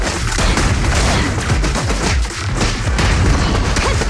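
Dense, loud bursts of gunfire from the video game Zenless Zone Zero, rapid overlapping shots and booms filling the whole stretch without a break.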